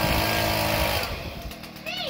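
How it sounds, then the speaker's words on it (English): Leaf blower running close by with a steady, loud, high-pitched engine roar that eases slightly partway through, with a voice over it near the end. "Put my leaf blower down."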